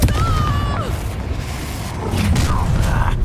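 A Confringo fire spell blast in the video game Hogwarts Legacy, a heavy booming explosion with a rumbling low tail that fills the short clip, with a whooshing tone near the start.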